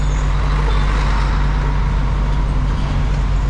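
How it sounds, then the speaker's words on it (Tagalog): A heavy truck rumbles past on a street in Buting, Taguig City, at night, with a deep, steady engine drone that stays loud and constant throughout, no voices. "may truck dyan ah dumaan"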